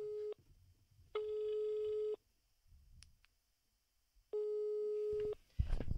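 An outgoing phone call rings in the earpiece, giving steady electronic tone bursts of about one second each with silent gaps between them. A brief rustle sounds at the end, and no one speaks.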